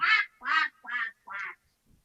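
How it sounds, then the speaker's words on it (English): Four loud, nasal quacks come in a steady rhythm close up, each short and harsh, followed by a faint trailing sound and quiet. "Who's quacking?"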